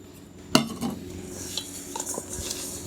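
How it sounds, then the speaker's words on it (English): Seasoned chicken wings tossed in a bowl: one sharp clatter of the bowl and contents at the start, followed by soft shuffling, scraping and light knocks as the wings are turned, quiet and close. "then give these wings a toss"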